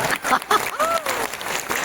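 Short burst of audience applause at a motivational seminar, a dense patter of clapping lasting under two seconds with a voice briefly audible over it.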